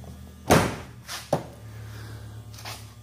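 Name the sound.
closing the door of a Samsung front-load washing machine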